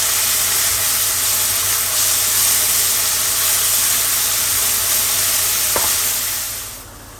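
Lentils frying in a pan with onion and garlic give off a steady, close sizzle and hiss that holds evenly throughout, with a brief stir or scrape near the end before it fades slightly.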